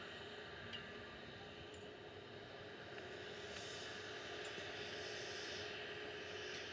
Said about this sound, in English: This is KLM A321-200 Neo, PHAXD, heading off to Amsterdam.